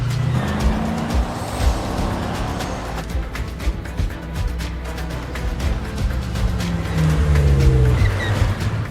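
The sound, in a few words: cars racing and overtaking on a long straight road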